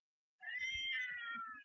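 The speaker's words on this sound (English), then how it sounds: "I have no idea whose cat Minnie belongs to." A barn-area cat gives a single drawn-out meow lasting just over a second, fairly close and clear against quiet surroundings.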